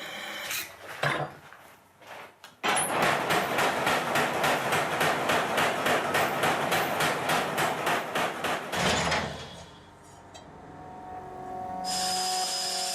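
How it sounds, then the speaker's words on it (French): A blacksmith on Réunion hammers heated iron while forging a knife, a fast, even run of ringing metallic blows, close and loud, lasting several seconds before stopping, with a few scattered knocks before it. "Une fois qu'on l'a monté en température, on va marteler."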